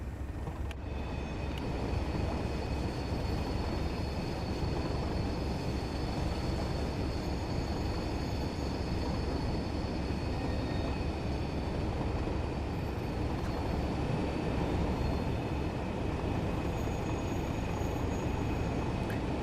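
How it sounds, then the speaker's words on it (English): A steam train in a railway simulator game rumbles along continuously, a dense steady drone of engine and wheels with a faint high whine, loud and unbroken for about twenty seconds. "Ooh, tractor noises."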